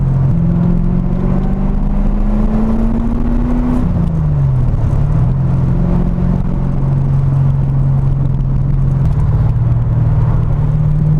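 A Corvette's V8 drones steadily from the cabin while driving through town, a continuous low engine note with gentle rises and dips in pitch as the car shifts and holds speed, loud and constant with no talk.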